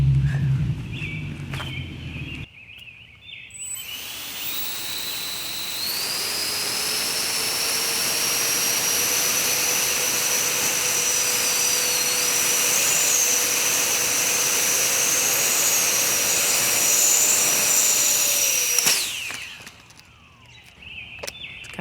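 A 3D printed drone driven by ducted fan motors spins up to a loud, steady high-pitched jet-like whine that rises slightly and holds for about fifteen seconds before cutting off abruptly, with footsteps and handling sounds before and after.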